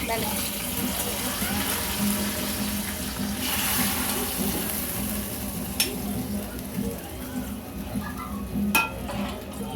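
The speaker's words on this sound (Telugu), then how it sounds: "తాలింపు వేసుకుందామండి." Tempering for ladies finger (okra) pulusu sizzles in hot oil, a moderate continuous crackle with stirring clicks and a couple of sharp utensil taps, while someone talks over it.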